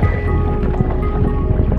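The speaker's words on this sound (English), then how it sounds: "That wind is strong." Strong wind roars constantly across the microphone on a fishing trip, a loud, unbroken rumble with gusty fluctuations and no pauses.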